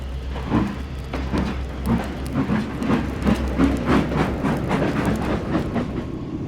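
Train water cars roll and rumble along rails with rhythmic clickety-clack and heavy wheel thumps, loud and close, a continuous rolling din without any talk.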